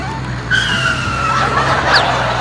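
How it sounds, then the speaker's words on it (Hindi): A cartoon bulldozer driven erratically, with a droning engine and squealing, skidding tones sliding up and down over a steady low hum, fairly loud and with no talk. "तू ये बुलडोजर कैसे चला रहा है?"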